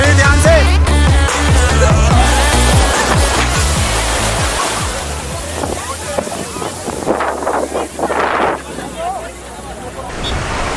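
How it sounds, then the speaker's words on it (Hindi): Ocean waves surge high onto a Goa beach at sunset during a New Year celebration, a broad continuous wash with strong wind noise buffeting the microphone and voices of people talking over it. "अब लहरें बहुत ज़्यादा ऊंची हो गई हैं"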